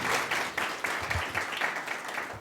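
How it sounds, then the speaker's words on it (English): An audience applauds at a professional meeting on payment and authorisation solutions, a moderate, somewhat distant wash of clapping that continues evenly for a couple of seconds. "may I ask the audience to give a big applause for Gabriel"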